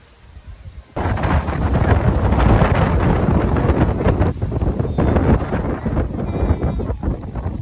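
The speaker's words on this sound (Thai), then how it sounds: "ลมแบบแรงจริงๆนี่" Strong wind buffets the microphone in open rice fields, starting abruptly after a quiet second and then roaring steadily and loudly, with gusty surges throughout.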